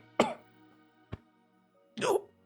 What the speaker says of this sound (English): he coughs up a little bit of blood